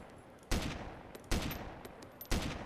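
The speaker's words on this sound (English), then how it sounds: "I'm just gonna shoot him." Three loud, sharp gunshots ring out in the survival video game DayZ, spaced roughly a second apart, each with a short echoing tail and no talking.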